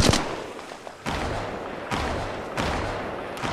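Gunshots in the mobile game Apex Legends Mobile, three or four loud broadband cracks spaced about a second apart, each with a decaying tail, with no talk.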